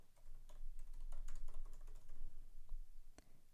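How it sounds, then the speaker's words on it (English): Quick, steady keystrokes on a computer keyboard sound close and quiet, with a brief pause before a final key press and no voices. "I'm going to type mushroom burger"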